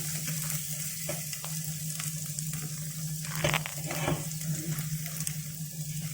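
Garlic and ginger sizzle steadily in hot oil as they fry for pinakbet, a continuous close crackle with a few louder stirring bursts partway through.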